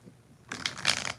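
Tarot cards being shuffled, a short quiet lead-in and then a dense burst of riffling card noise up close.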